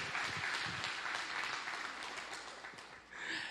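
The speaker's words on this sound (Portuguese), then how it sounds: "Um aplauso para os meninos mais lindos dessa igreja." A church congregation applauds for the children, a dense, steady wash of clapping that runs throughout and swells again at the end.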